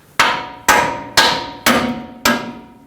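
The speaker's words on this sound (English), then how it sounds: "If you want to put the nut back on and then hammer on the end of the stud straight up, you could do that." A hammer strikes the end of a ball joint stud on the front suspension of a 2015-2020 Ford F-150, five loud metallic blows at an even pace, each ringing briefly.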